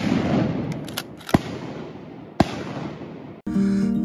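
Two sharp shotgun blasts ring out during a youth waterfowl hunt, each cracking loudly over outdoor wind noise before the sound cuts abruptly to something else.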